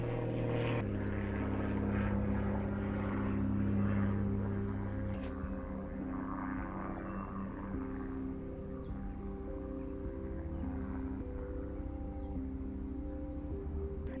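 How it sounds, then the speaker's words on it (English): Propeller airplane passing overhead in a garden, a droning engine tone loudest early on that slowly fades as it moves away, with faint birdsong above. "We got Dr. Killer airplanes flying overhead"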